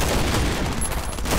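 Rapid M7 rifle fire in the video game Last Island of Survival, a dense, continuous burst of loud shots with no gaps, over a zombie-fighting mode.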